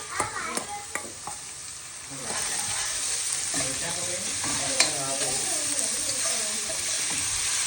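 Onions for Manchurian gravy hit a hot pan and fry with a bright, steady sizzle, broken by a few sharp clinks and scraping stirs; the sizzle swells and stays loud after the first couple of seconds.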